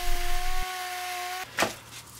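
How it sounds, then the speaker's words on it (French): A used Parkside power sander sanding paint on a Citroën XM whines steadily with a high tonal hum, then cuts off abruptly, followed by a brief clatter and quieter handling noise. "C'est le moment d'étraîner ma nouvelle ponceuse d'occasion."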